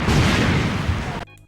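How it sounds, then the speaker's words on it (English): A bomb explosion sound effect for an animation, a dense, rumbling blast that holds steady for over a second before cutting off abruptly into near silence. "Like so, the sound of the bombs exploding."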